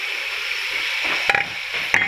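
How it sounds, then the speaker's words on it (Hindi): Beef frying with spices in a pan, a continuous bright hiss of sizzling oil close by, with a couple of brief stirring clatters near the end; no voices. "बीफ को हम फ्राई करेंगे"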